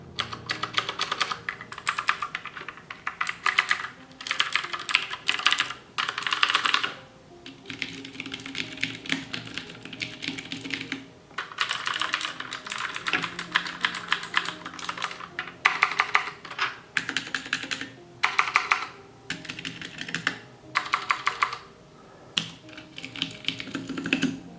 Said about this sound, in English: These are very worn in blue switches to the point where they're almost what I would call silent blues. They've lost a lot of their click